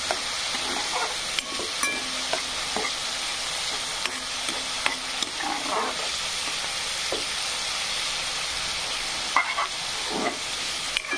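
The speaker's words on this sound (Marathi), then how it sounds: "अद्रक, कोथिंबीर, लसूण आणि कांदा छान असा फ्राय होत आहे।" Ginger, coriander, garlic and onion frying in a pan for an usal gravy, a continuous close hissing sizzle with occasional scraping stirs and light clicks throughout.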